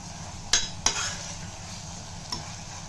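Onion frying in a pan with salt, a soft steady sizzle running underneath as a spoon scrapes and clinks against the pan in two quick strokes and one later stroke, close by, no voices.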